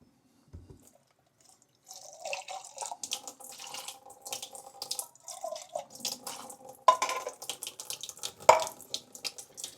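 Black beans being rinsed under running tap water in a sink, the stream splashing and trickling over them for several seconds after a brief quiet start, close and moderately quiet, no talking.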